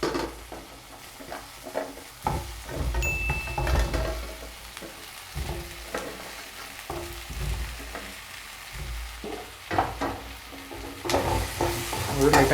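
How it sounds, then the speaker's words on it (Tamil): Chopped vegetables fry with garlic and green chillies in a pan for Tamil Nadu sambar while a spoon stirs them, producing a steady sizzle broken by repeated scraping and clinking strokes, close and moderately loud, with no speech. "லைட்டாக கிளறி விட்டுருங்க."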